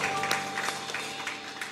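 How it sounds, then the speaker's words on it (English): Congregation at a church service clapping hands for the praise team, a steady dense patter of many hands with a few sharper accents, fairly close and filling the room with no talk over it. "Everyone clap hands and say thank you for the praise team."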